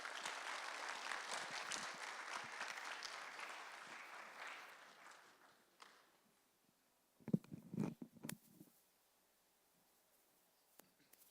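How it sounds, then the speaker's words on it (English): Church congregation applauding at a Sunday service, a fairly faint burst of clapping that fades out after several seconds, followed by near silence broken by a few brief knocks and handling noises. "let's give them a round of applause again"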